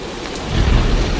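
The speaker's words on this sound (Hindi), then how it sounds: "हे भगवान, यह तो बहुत जोर की बारिश आ गई।" Steady heavy rain hissing loudly, with a low rumble of thunder swelling in the background partway through.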